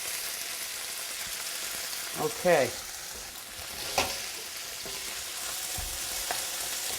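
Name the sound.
nopales cactus sizzling in canola oil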